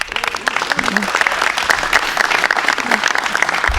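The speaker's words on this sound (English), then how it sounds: "Let's give him a big round of applause" Applause from an audience at a high school athletic signing event fills the room steadily, with scattered voices and a cheer rising through the dense clapping.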